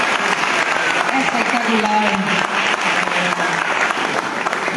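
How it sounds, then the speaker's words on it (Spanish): A concert audience applauds the bandoneon player at a live guarania performance. The clapping is loud and sustained throughout, and a voice briefly speaks over it. "Un aplauso maravilloso también para nuestro bandoneonista"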